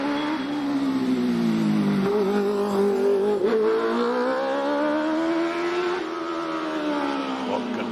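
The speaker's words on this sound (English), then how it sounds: "Here he is in the 1 litre OMS Hornet." A 1-litre OMS Hornet race car climbing the Prescott hill climb course, its high-revving engine whining loudly and continuously, pitch rising and falling with each gear change and corner.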